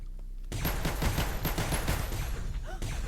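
Rapid continuous gunfire bursts from an infinite-ammo gun in Space Station 14, a loud, dense fusillade that starts suddenly and rattles on without pause, with no voices.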